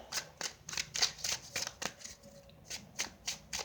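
Tarot cards riffle and snap in quick repeated bursts, a close, crisp shuffling rhythm with brief pauses between passes.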